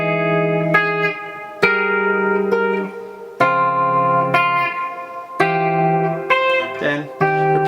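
Electric guitar playing the intro reprise of a song, with five struck chords ringing out in turn, clear and close, with effects and reverb on the tone.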